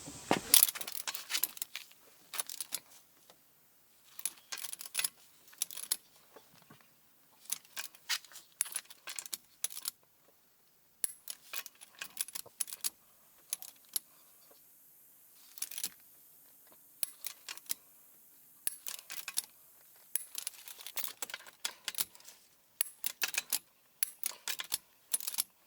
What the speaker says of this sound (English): We'll set it to 90 foot-pounds of torque and torque the lug nuts.